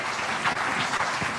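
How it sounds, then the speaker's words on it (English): A brief stretch of steady audience applause at a church gathering, a dense, moderately loud patter of many hands. "you can clap for them. You clap for them."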